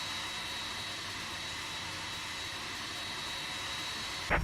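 Jet engines of a TUI Boeing 767-300ER on a runway in the X-Plane 12 flight simulator, heard as a steady, broad, even roar without pause, with a brief louder burst right at the end.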